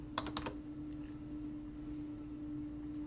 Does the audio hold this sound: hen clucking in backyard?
no